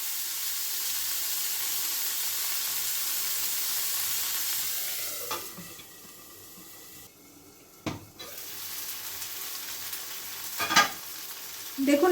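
Corn and peas being stirred and fried in a pan for a spiced rice dish: a steady loud sizzle that drops quieter midway, broken by a few sharp clinks and scrapes of a utensil, with no talking.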